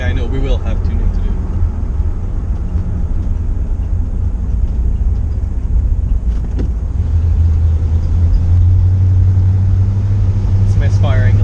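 A Toothpick car's engine, just pulled out of storage, runs steadily with a deep low rumble that swells louder near the end, and its rhythm stumbles with a slight misfire. No one speaks over it.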